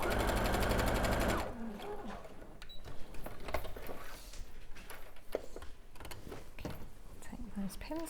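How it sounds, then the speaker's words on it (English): A sewing machine stitches a quilted jacket in a rapid, loud mechanical whir for just over a second. It stops abruptly and is followed by quieter handling noises and clicks while someone talks. "I'm going to stitch now"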